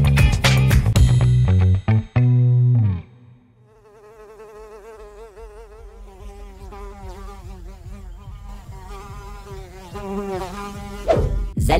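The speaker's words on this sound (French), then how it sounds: "Les mouches font partie des acteurs du compost, mais elles peuvent vite devenir envahissantes." Flies buzz around a compost heap with a steady, wavering insect drone at close range, following a burst of loud tonal music at the start.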